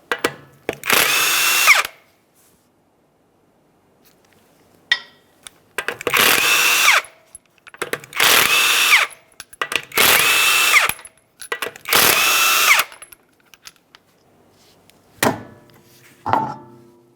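An impact power tool spins off 21mm lug nuts from a front wheel of a 2009-2014 Nissan Maxima 3.5L V6, five loud whirring bursts of about a second each separated by silences, with clinks of the nuts afterward.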